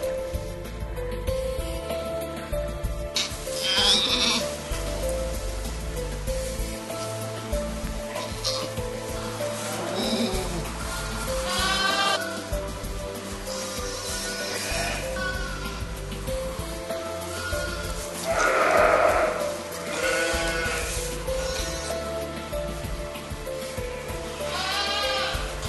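Newborn lambs and ewes bleating repeatedly at lambing time, several overlapping calls near and farther off over a constant background of farm noise.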